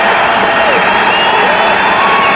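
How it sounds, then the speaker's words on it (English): Hockey arena crowd roaring and cheering after a power play goal in a 1983 Chicago Black Hawks game against the Toronto Maple Leafs, a dense, steady wall of whoops and shouts filling the whole clip. "Listen to the crowd. They're all on their feet."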